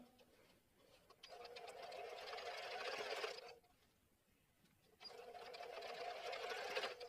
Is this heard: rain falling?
no